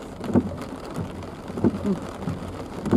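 Steady rain falls outdoors on a hillside road near a temple, a continuous hiss of drops with a few louder splashes and rumbles recurring through the stretch while someone walks uphill on foot.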